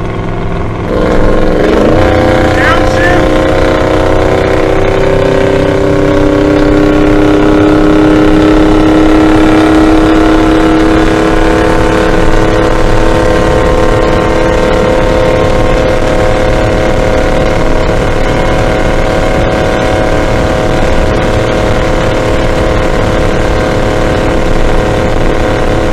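A car engine fitted with Holley Sniper EFI cruises steadily at about 72 mph, a loud continuous drone with a low rumbling tone and road noise, unbroken and with no voices.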